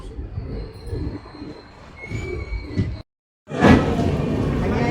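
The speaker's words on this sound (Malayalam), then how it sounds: "4ാമത്തെ പ്ലാറ്റ്ഫോമിൽ ഇപ്പോൾ ട്രെയിൻ കിടപ്പുണ്ടെന്നാണ് പറഞ്ഞത്." A train at the fourth platform of a railway station: rumbling rail and wagon noise with a faint high squeal for three seconds, a brief gap, then a louder, close roar of the train resumes.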